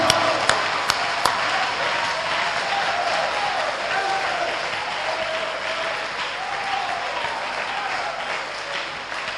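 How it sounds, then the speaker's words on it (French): A church congregation breaks into sustained applause with some cheering, a dense wash of clapping that holds steady and loud throughout, with a few sharp claps near the start. "Des acclamations pour eux."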